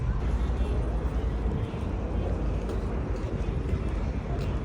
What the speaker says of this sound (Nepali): यही डुङ्गा होला हौ